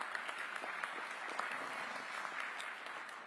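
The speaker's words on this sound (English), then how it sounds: "Let's give her a round of applause as well." An audience at a State Senate ceremonial celebration applauds in a steady, even round of clapping that carries on evenly from start to finish.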